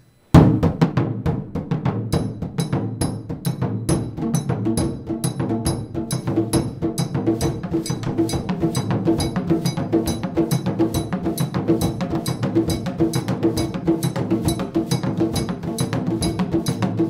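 Ugandan drums (enene, ndumi, ngabe) with an embaire xylophone play the popular Busoga dance rhythm Tamanaivuga, a dense, steady ensemble groove with sharp repeated strikes sustained loudly throughout.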